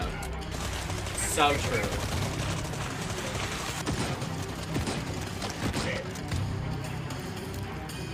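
Gunfire from a video game trailer crackles in dense bursts and volleys across the stretch, with a person speaking briefly over the shooting.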